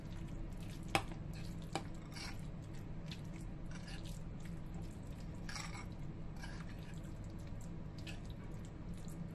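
Mung bean filling for mini turon is stirred in a pan, giving soft, wet squelching and scraping sounds in a steady rhythm with a few sharper clicks near the start. No one speaks.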